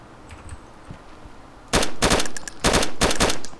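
Loud bursts of SKS rifle fire in DayZ Standalone, four or five sharp shots in two quick clusters after a quiet stretch of ambient background.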